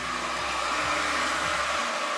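Wine poured into a pot over hardened, clumped sugar while making Glühwein: a steady, loud hissing sizzle that holds evenly throughout without pause, with no talking.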